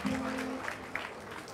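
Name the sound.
parents clapping for themselves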